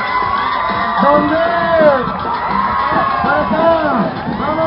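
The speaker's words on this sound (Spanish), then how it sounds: "A ver, el grito de la gente." A carnival crowd in Mérida shouts, whoops and cheers in a dense, loud roar that swells and dips steadily, with many overlapping voices and a brief spoken question.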